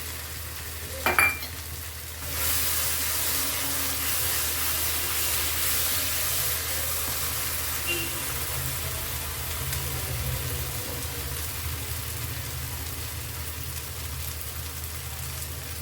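White pea curry for ghugni sizzles steadily in a pan as it is sautéed, a continuous close frying hiss after a brief clatter at the start.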